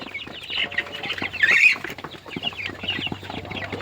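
Chickens on a poultry farm cluck and squawk close by in a busy, overlapping chorus, peaking in one louder burst, over a faint steady hum.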